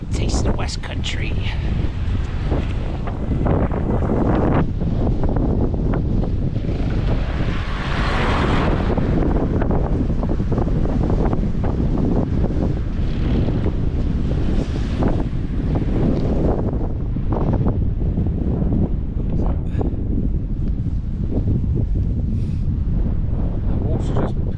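Strong wind buffets the microphone while a Specialized Creo e-bike rides through open West Country countryside, a loud continuous roar with gusty surges and sharp rumbling bursts that never lets up.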